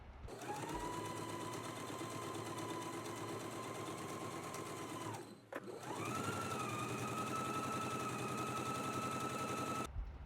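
A sewing machine stitches fabric ties for a t-shirt, giving a close, continuous rapid whir that stops briefly midway and then resumes at a steady pace.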